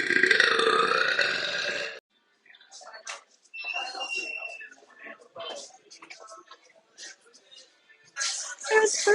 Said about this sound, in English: burp super loud